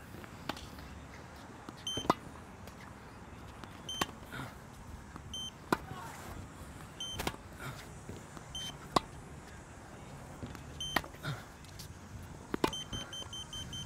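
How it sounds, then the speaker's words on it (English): An electronic tennis line-calling device at a court gives short, sharp beeps at irregular intervals to signal a ball landing out, standing out over steady background noise. "when the ball is out, so definitely it was like 1 foot out, you have multiple beep and the red light"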